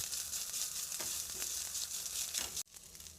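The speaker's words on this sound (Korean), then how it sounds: "기호에 맞게 소금으로 간을 한 후 계란이 익을 때까지 센 불에서 빨랑빨랑 볶아냅니다." Eggs and rice stir-fried in butter over high heat sizzle continuously for a few seconds, with soft scraping stirs marking the steady hiss before a brief drop near the end.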